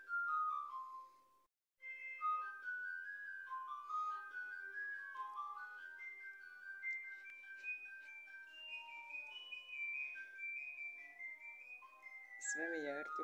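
A melodic phone alarm tune plays steadily for over ten seconds, a clear electronic chime rising and falling in pitch, fairly quiet and alone, ending with a brief warbling sweep.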